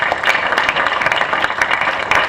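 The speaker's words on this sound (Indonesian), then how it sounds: "Beri tepuk tangan untuk Ananda Syakirana." Enthusiastic applause from an audience at an Islamic school graduation ceremony, honoring a student, a loud, close, continuous patter of many hands clapping with no speech over it.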